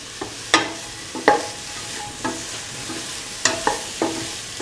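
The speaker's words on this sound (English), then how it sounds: "Thoroughly saute mix." A spatula scrapes and stirs lemon cauliflower rice in a hot pan, with irregular clinks and scrapes over a steady soft sizzle.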